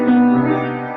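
A single sustained minor chord with a major seventh played on piano, ringing out steadily and fading slowly over about a second, alone with no talk.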